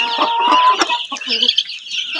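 Chickens cluck loudly and close by in a rapid, uneven series of calls and short squawks, with no talk over them.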